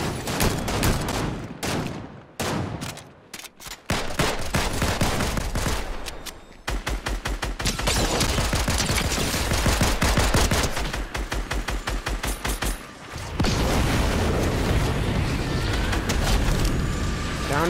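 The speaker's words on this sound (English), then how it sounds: "Getting shot from up on top of the slab." Gunfire rattles through a video game shootout at a citadel, with dense bursts of rapid shots and heavy booms, loud and close, broken by a few short lulls.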